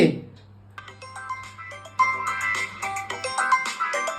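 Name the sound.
phone ringing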